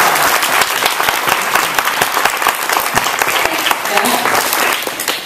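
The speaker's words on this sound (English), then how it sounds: "let's open up our program with a round of applause for our moderators," Loud, dense applause from a forum audience welcoming the moderators at a health-care event, a continuous wash of many hands clapping close by with faint crowd murmur mixed in.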